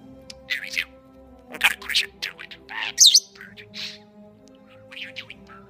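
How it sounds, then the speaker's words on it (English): A yellow budgie chirps in short, high, scattered bursts, several sharp tweets coming close together over a low, steady room hum. "I know you're a budgie bird."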